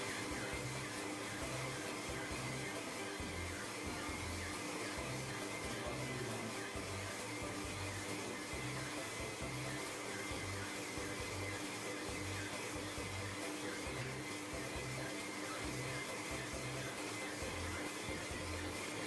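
Kenwood stand mixer kneading dough: a loud, steady motor whine with a rhythmic, pulsing churn from the hook working the dough, continuous and close throughout, with no voices.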